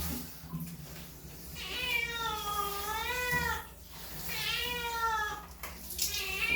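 A cat named Asyong meows repeatedly while being bathed and soaped with shampoo, long wavering drawn-out cries close to the ear, separated by brief pauses, over faint splashing.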